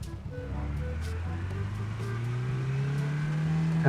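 A car engine in PUBG New State drones steadily and climbs gradually in pitch as it accelerates, loud and close, with a synthetic, game-like quality and no talking.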